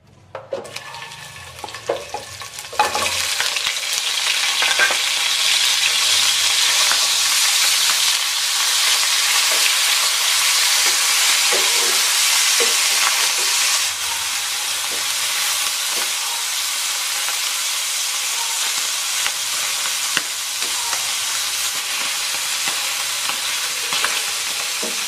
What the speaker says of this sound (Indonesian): Langsung goreng ikan asin.